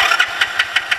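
Repaired motorcycle engine turning over and catching, a close, loud run of rhythmic bursts roughly every fifth of a second, like a starter cranking and firing without words over it.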